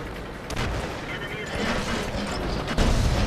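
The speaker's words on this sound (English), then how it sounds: "We've been hit by the artillery." An artillery shell strikes a tank in the video game World of Tanks, producing heavy booming impacts with rumbling broadband blasts layered over continuous battle noise.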